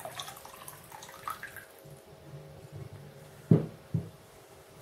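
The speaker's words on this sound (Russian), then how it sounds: "Воды сейчас добавим." Water poured into a pot of chicken being prepared for hot smoking, a soft splashing trickle with a couple of louder sloshes near the end.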